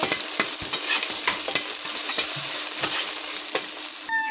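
Onion, chilli and garlic sizzle in hot oil in a karahi while a utensil stirs them, producing repeated sharp scraping clicks over a steady frying hiss.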